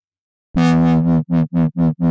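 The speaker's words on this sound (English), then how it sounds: "Some lovely extra harmonics brought out by that distortion. It's a nice effect." A buzzy note from the Monique software synthesizer starts abruptly, holds with gritty distorted harmonics, then pulses in quick rhythmic bursts as its filter is modulated.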